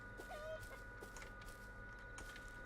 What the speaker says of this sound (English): Hey, look, a chicken.